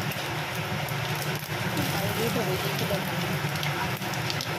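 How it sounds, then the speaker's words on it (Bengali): Dried red chili and black cumin (kalo jeere) tempering in hot oil while cooking red amaranth greens, a dense, steady crackling sizzle, close and continuous. "আগে শুকনো লঙ্কা ফোড়ন, কালো জিরে ফোড়ন"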